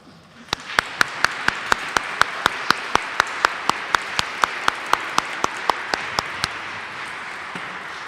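A church congregation at a Christmas Eve evening service applauds, a broad wash of clapping overlaid by loud, evenly timed single claps beating out a steady rhythm, then fading into continued general applause.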